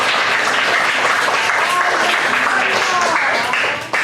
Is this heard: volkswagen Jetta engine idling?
no